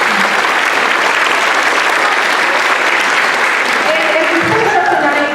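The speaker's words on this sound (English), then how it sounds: "a round of applause for the students" Sustained applause from a large audience at a middle school band spring concert, steady and loud throughout, with a few voices and cheers rising near the end.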